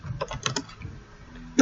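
A few quick keystrokes on a computer keyboard, light irregular taps near and fairly quiet, with a louder cluster at the end.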